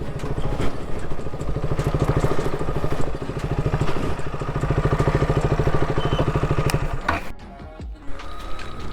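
A gen 1 KTM Duke 200 motorcycle engine running with a steady throbbing single-cylinder pulse, loud and close, riding through a field, then dropping briefly toward a lower idle near the end, no talk.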